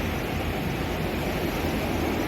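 Ocean waves at Kovalam beach, heard from a hotel balcony, make a steady broadband roar of surf that stays at an even level throughout, with no voices.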